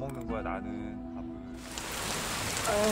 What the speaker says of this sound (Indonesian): Sore itu hujan, membuat Taejung harus cepat-cepat pulang ke rumah kecilnya.